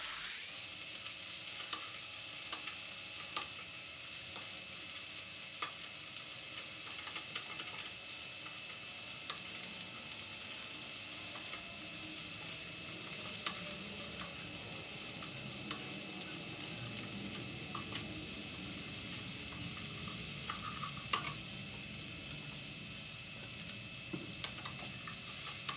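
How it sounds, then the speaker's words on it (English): Egg roll in a bowl filling of Asian salad kit and meat sizzles steadily in a pan, with light scraping stirs and occasional ticks of a utensil against the pan throughout, close and continuous with no talk. "And I will continue stirring it and letting it cook for about the same time as the meat"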